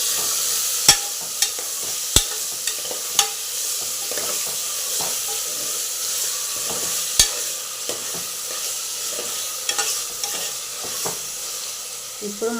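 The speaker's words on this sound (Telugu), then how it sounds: "ఇప్పుడు మనము మటన్ వేసుకుందాము. మటన్ వేసుకొని కలుపుకుందాము." Mutton frying for a mutton curry sizzles steadily in the pan, while a spoon stirs it with intermittent sharp scrapes and clinks, close up.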